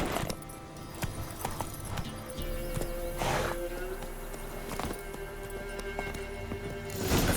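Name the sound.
horse hooves galloping in a video game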